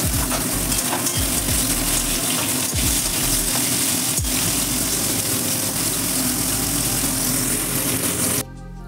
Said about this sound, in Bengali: ফুলকপিটা ভেজে নেব।